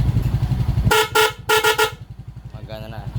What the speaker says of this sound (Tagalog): Then busina, gumagana na rin.